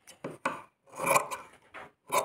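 Scissors snip through mekhela fabric during tailoring: a run of short, close cutting strokes in uneven rhythm, with a longer rasping cut in the middle and no voices.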